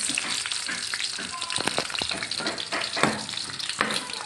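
Meat and garlic fry in a pan with a close, steady sizzle, broken by stirring scrapes and a few louder crackling bursts.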